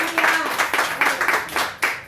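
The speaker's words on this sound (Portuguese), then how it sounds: "Dê um forte aplauso ao Senhor." A church congregation claps rhythmically in bursts, loud and close, with faint voices mixed in.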